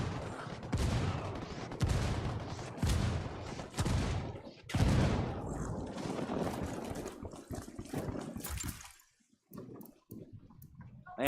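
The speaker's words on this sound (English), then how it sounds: "I called Pakatari for some mortar fire." Mortar fire called in during the video game Ghost Recon Wildlands, heard as a dense run of repeated booming blasts and crackling impacts, loud and close, thinning out into sparse bangs near the end.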